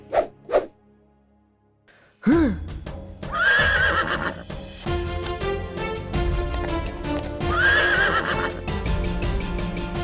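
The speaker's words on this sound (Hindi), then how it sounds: "वो काला घोड़ा ही अच्छा रहेगा। उस पर बैठकर मैं टिक टिक करता घर पहुंचूंगा" Cartoon horse, a black horse from an animated Ghatotkach film, whinnies loudly and repeatedly over a busy musical score, with clip-clop hooves after two short soft sounds at the start; no one speaks.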